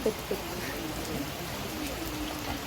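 Rain falling steadily around a park shelter where people wait, a soft even hiss that is fairly faint and continuous throughout.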